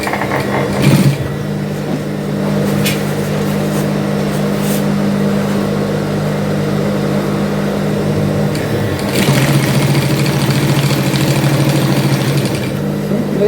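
A sewing machine stitches fabric for an afrocentric souvenir bag in a steady, whirring hum that runs close and continuous, with a brief knock near the start and a short break and restart partway through.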